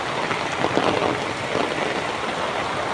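Heavy rain falling steadily outdoors, a dense continuous hiss of drops hitting surfaces, close and fairly loud, with no talking.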